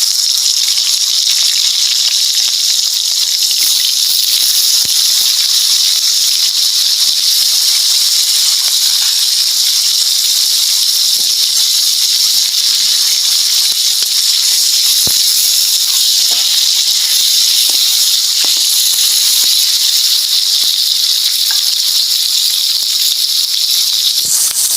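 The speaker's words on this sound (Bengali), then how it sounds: "চিংড়ি মাছগুলো আমি ভেজে নেব।" Bagda prawns fry in hot oil in a pan, producing a loud, unbroken high sizzling hiss that lasts the full twenty-five seconds with faint pops and no talk.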